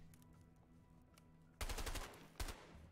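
Gunfire in the action video game A Way Out during a jungle fight: quiet background, then a loud burst of shots followed by a second short burst, close and sharp, with no talking.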